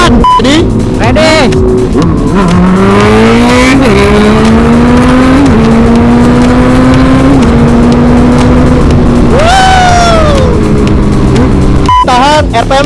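Yamaha Aerox scooter fitted with a swapped Honda CB400 engine revving hard, a loud close engine note climbing steadily in pitch through a long pull, with quick blips and excited voices shouting over it.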